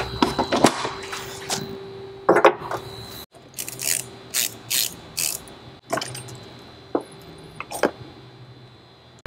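Ratchet wrench loosening the negative battery terminal on a Jeep, a series of short clicking ratchet bursts in quick succession, close and crisp, with no talk over it.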